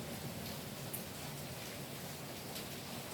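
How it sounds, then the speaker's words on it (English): Steady rain hisses evenly throughout, a dense wash of patter with a few louder drops, no voices. "I know it's noisy and hope you understand because it's raining"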